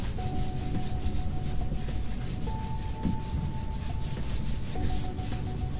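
Chalk writing rubbed off a classroom board with a duster, a loud, continuous back-and-forth scrubbing close by with a faint steady tonal hum underneath, and no talking.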